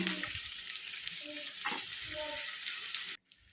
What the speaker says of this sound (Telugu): ఆయిల్ అయితే వేసేసుకొని ఆనియన్స్ అయితే వేసేసుకున్నా ఎగ్ ఫ్రై అయితే చేసేస్తున్నా